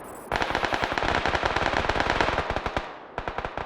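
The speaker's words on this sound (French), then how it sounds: "Ça tire derrière toi, à ta droite" Automatic gunfire rattles in PUBG on the Karakin map as a rapid, loud burst of evenly spaced shots lasting over two seconds, then a brief pause and another short burst, with no talking.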